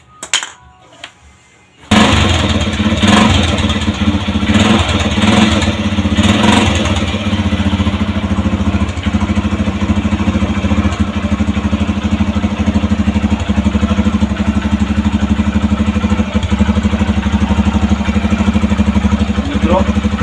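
A motorcycle engine starts and keeps running steadily, near and loud, in an experiment powering a 220-volt LED bulb from the bike, with a constant low rumble after a brief quiet start.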